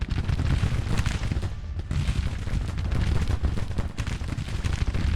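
Constant gunfire from Civil War era muskets and artillery in a tactical battle game, a dense rolling barrage of overlapping shots and booms that continues without pause.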